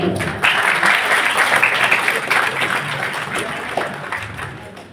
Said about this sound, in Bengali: করতালি দিয়ে সকলে উদ্বুদ্ধ করবেন